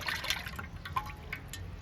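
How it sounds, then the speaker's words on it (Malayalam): Jaggery syrup poured through a strainer into a pot, a soft, steady trickle of thick liquid with light drips, close by and quiet, without talk. "പാനിയൊക്കെ അരിച്ചൊഴിക്കുക."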